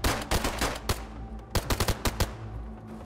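Gunfire in the survival game DayZ: a close, loud string of sharp automatic shots in ragged bursts, then a pause and another rapid volley of distinct cracks.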